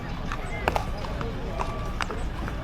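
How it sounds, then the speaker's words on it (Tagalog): Horse hooves clip-clopping on a ride, with a few sharper hoof strikes standing out against steady background noise and people talking throughout. "Ang ingay naman ng kabayo."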